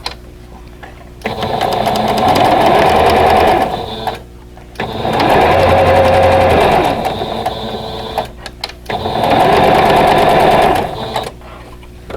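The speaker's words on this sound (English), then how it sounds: "And now I'm going to sew these two units together." A sewing machine stitches quilt block pieces, half-square triangle units, together in three loud sustained runs of a few seconds each, separated by short pauses, with no talking.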